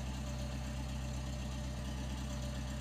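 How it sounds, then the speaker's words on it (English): A small aircraft's engine runs steadily on the ground, a close, continuous droning hum with an even, unchanging level and no voices. "I've got the engine turning because I don't want to run the battery down."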